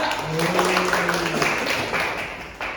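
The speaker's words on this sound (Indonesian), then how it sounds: "Betul sekali, tepuk tangan untuk Surya." A classroom applauds a student during an economics lesson on supply and demand, scattered clapping from a small group, with a voice speaking over the start.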